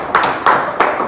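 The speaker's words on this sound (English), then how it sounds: "Can you clap for Sakuye?" A classroom of students claps for a classmate in three short bursts of applause, close and fairly loud, spaced evenly across a brief moment.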